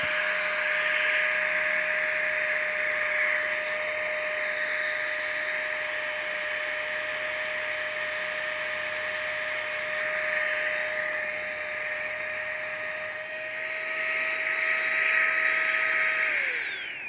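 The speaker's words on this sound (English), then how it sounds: "So the nice thing about this little pump thing is this little rubber piece goes right over the spout, and it makes a perfect connection." A small electric air pump runs at a campground, giving a steady, loud, high-pitched motor whine with a constant tone that winds down and stops near the end.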